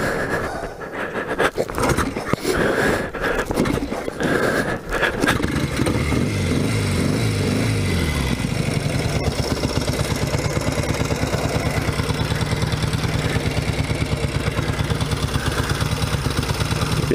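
A 1964 Royal Enfield Interceptor 750 motorcycle sputters through rough, uneven revs early on, then settles into a steady, close, loud idle with a fast even pulse that runs on alone to the end.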